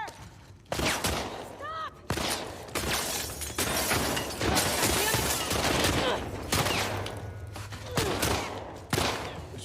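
Heavy gunfire rattles almost continuously through a combat scene in The Last of Us Part II, with loud bursts and shots interrupted by brief gaps, while a voice shouts once over the shooting.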